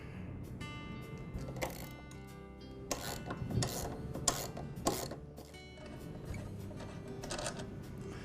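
Ratchet loosening the blade bolt on a Craftsman lawn mower, with bursts of rapid clicking repeated several times with short pauses between, close and clear with no talking.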